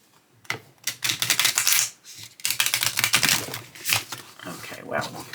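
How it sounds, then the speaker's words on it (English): Tarot cards from the Fountain Tarot deck being riffle shuffled by hand, heard close as three crisp, rapid fluttering bursts with short pauses between them. "you will be able to do the riffle shuffle quite nicely. Let me try it again."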